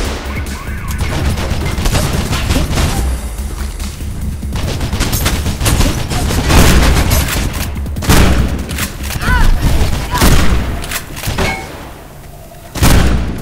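Loud gunfire from the video game Mirror's Edge rings out in repeated volleys and bursts over a continuous dense action soundscape, with a voice briefly talking in between.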